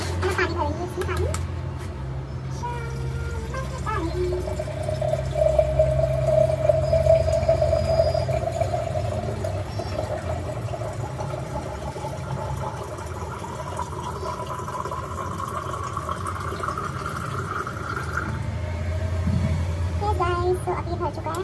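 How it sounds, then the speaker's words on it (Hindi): Water runs into a container while a detox drink is being prepared, a soft steady flow with a gradually rising tone, heard under ongoing talk. "पानी भरेंगे इसमें, पानी।"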